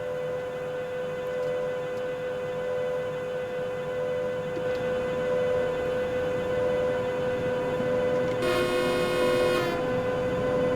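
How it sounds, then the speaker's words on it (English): A train sounds in Train Sim World 2022 with a steady tonal engine hum and rolling rumble, then a bright, brief horn-like blast near the end, with no talk over it. "I like to hear the sounds of the trains myself."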